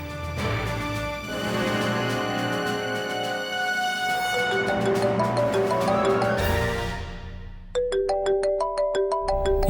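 A bright electronic ringtone plays a looping melody of bell-like tones, loud and continuous, switching to a sharper repeating tune near the end.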